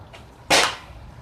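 A single sharp pop from an out-of-box, unmodified Nerf Rival Helios bolt-action blaster firing a foam round, close and loud, with a faint earlier click.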